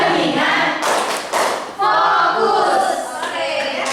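A classroom of eighth-grade students clap their hands together in a rhythmic pattern, several sharp bursts of close, loud claps mixed with voices.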